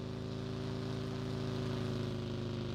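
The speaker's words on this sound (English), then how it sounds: "Here comes the buggy. Buggy's passing." A buggy from PUBG drives past with a steady, droning engine hum and clear harmonic tones, holding constant and fairly loud throughout with no talking.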